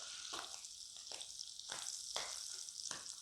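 Paneer pieces frying in a pan for matar paneer, a soft steady sizzle with repeated scraping clinks as the pieces are turned over to crisp.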